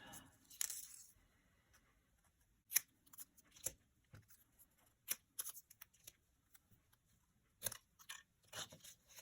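Paper strips being trimmed off a DIY ticket-strip quote journal, likely with scissors: a series of sharp, separate snips and crisp paper rustles, close and fairly quiet, with pauses between cuts and no talk.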